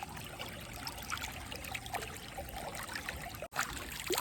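Lake water trickles and splashes steadily as hands are washed at Vihar Lake, Mumbai, with soft sloshing and dribbling close by, no voices.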